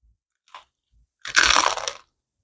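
Crispy Vietnamese rice paper is bitten, giving one loud, close crunch that crackles for about half a second after a small tap before it. The surroundings are otherwise silent.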